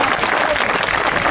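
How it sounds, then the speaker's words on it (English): Steady applause from an audience at a Warwick Castle bird show, a dense wash of clapping that holds evenly throughout and swells slightly at the end. "Let's give him a big round of applause"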